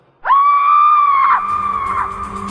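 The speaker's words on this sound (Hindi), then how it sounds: "एक बड़ी ही दर्दनाक चीख मेरे कानों पर आ पड़ी।" A long, loud, piercing scream sounds as an effect in a horror story about a witch, rising sharply and holding for about a second before breaking off into noisy commotion.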